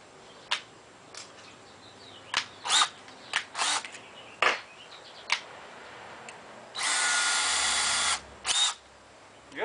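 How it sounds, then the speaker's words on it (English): A power drill whirs in a series of short bursts, then one sustained run of a couple of seconds, loud and close, with no talking, drilling a screw hole for a baggage door lock on a Shasta trailer. "So we'll drill a hole first."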